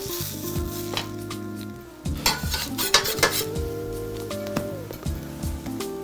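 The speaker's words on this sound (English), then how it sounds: "so I like to flip them a couple of times" PB&J French toast slices sizzle and fry in a pan as they are flipped, with scraping and clinking of a spatula against the pan over a steady close-up crackle.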